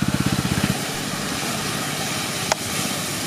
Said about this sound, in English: This generator is a pumping machine. It pumps from the tank to this control valve here.